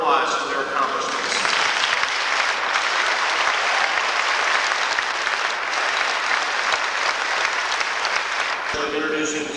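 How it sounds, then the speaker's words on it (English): Warm, sustained applause from a commencement audience fills the hall as a graduating class is honored, a steady dense clapping that holds at full strength for nearly the whole stretch before easing off at the end. "they certainly deserve your warm applause for their accomplishments"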